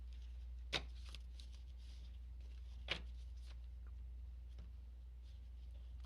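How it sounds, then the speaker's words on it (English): A tarot deck is handled and shuffled quietly, giving faint, sparse card snaps and light riffling, with two sharper taps standing out against a low background hum. "You guys saw me shuffle those cards a million times"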